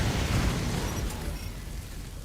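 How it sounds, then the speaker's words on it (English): Grenade explosion in the game Aliens: Fireteam Elite, a dense, loud rumbling blast that fills the whole moment and slowly tails off, no voices over it. "Grenade out."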